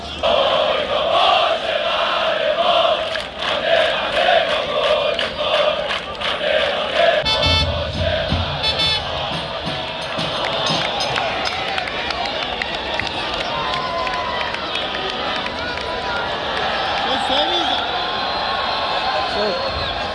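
Football stadium crowd at a Damash versus Khalij Fars Mahshahr match, a loud continuous roar of chanting and cheering fans with rhythmic bursts, steady throughout at close range.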